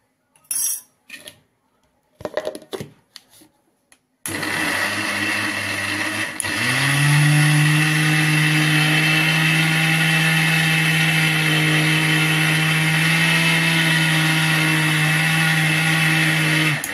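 A mixer grinder grinds a spice mixture of cumin and garlic: a few sharp clatters as ingredients go in, then a loud, steady, close motor whir with no speech until the end.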